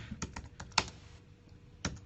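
Brief bursts of typing on a computer keyboard, a few quick clustered keystrokes with a short pause between, fairly quiet and close with no speech.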